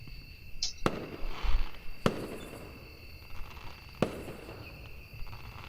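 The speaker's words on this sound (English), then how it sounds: "the total stillness was broken by the sound of the first rocket ascending, its explosion painting a circular pattern in the sky" Fireworks in the visual novel Angels with Scaly Wings: three sharp, distant bangs spaced about two seconds apart over a quiet background with soft crackles.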